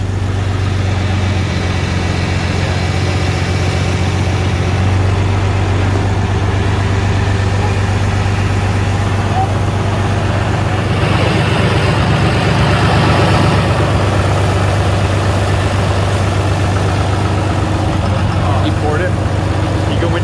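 A Ford truck's Cummins diesel engine idles steadily just after starting, a loud, close, constant low rumble with people talking over it throughout.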